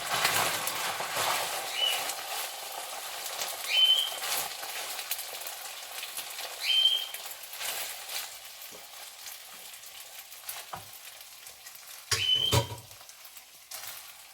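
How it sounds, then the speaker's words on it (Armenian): Drained boiled rice frying in melted butter in a pan, a low steady sizzle with a few stirring scrapes, quiet, close, and a faint whistle-like chirp now and then in the background. "հիմա ավելացնում եմ յուղին քամված բրինձը"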